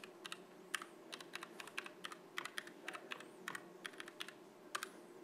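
Keys clatter on a computer keyboard as a terminal command is typed on a virtual machine, a quick irregular run of close, crisp clicks with short pauses and no voices.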